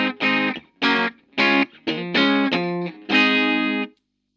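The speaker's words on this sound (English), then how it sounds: "what it sounds like going straight into the Marshall JMP" A Stratocaster electric guitar plays straight into a Marshall JMP amp in a short riff of about seven punchy, separated chord stabs, loud and close with crisp harmonic overtones, the last one held before silence.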